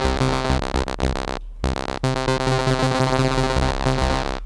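Bright, buzzy sawtooth synth patch recreating the sound from Snap's Rhythm Is a Dancer on a DRC synth, playing loud, rhythmic stabs with short gaps and then held chord notes, with no voices.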